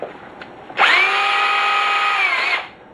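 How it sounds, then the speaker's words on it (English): A power drill spinning a really fine bit drills holes in a homemade etched circuit board, starting abruptly and holding a steady high-pitched whine for about two seconds before stopping. "I use a really fine drill bit to drill my holes."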